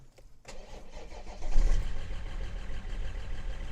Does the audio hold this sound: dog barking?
no